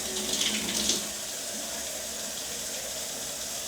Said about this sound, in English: So all you need to do, turn your cold water on.